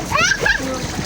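Splashing water in a rooftop hotel swimming pool at a Cox's Bazar hotel, short and close with a voice chattering over the splashes.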